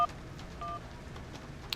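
Telephone number dialed in the video game Syberia: a short run of DTMF keypad tones, faint and separate, over a low background hum.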